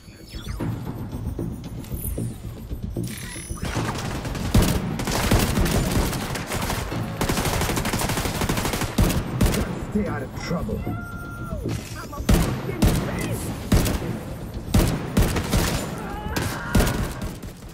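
Rapid rifle gunfire in The Division 2, with dense, loud bursts of shots repeating almost continuously over a noisy combat bed, while a player talks throughout.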